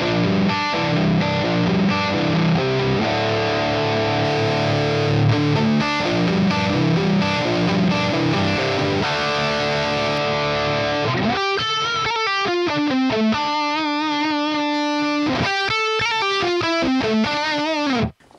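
Electric guitar played with a high-gain distorted lead tone through a Line 6 Helix, probably on a bridge pickup. Dense sustained chords give way to singing single-note lines with bends, loud and continuous with no voices.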